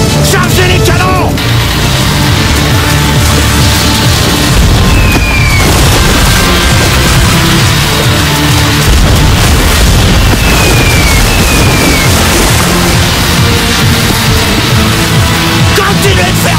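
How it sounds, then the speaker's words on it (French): Heavy booms and blasts of pirate ship cannon fire crash repeatedly amid loud chaotic battle noise, with whistling streaks overhead. "Chargez les canons."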